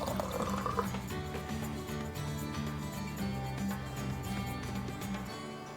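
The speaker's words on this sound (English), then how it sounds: "Let's fill this up to the 100 milliliter." Water pours steadily into a measuring container until it reaches 100 milliliters, making a close, continuous trickling fill with no talk over it.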